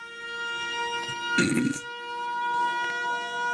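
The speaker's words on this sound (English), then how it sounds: "let's go with the siren" A siren in the video game Factorio: Space Age, layered with steady tonal hums and a brief, louder wailing burst in the middle of a busy, continuous game soundscape.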